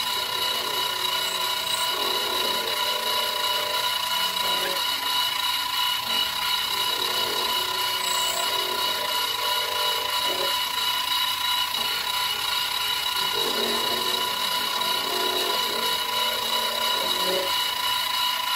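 Klutch hand-fed mini-mill cutting metal held in a vise, a steady high machine whine with repeated rasping cutting passes that come and go in slow, uneven strokes, heard close and without talk.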